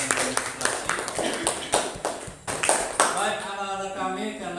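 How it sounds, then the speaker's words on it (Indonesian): A school class claps for a student, a dense, steady patter of many hands close by that thins out toward the end while a voice speaks over it. "tepuk tangan untuk Anton"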